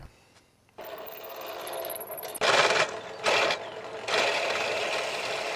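A workshop machine sands and roughs out the outer shape of an artisan wooden smoking pipe, running in a steady drone with loud grinding bursts as the wood is pressed against it.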